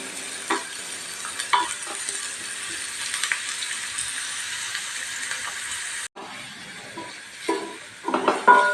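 Cauliflower fries in a pan with a steady hissing sizzle and occasional stirring scrapes, fairly quiet and close, with a brief cut partway through and no talk.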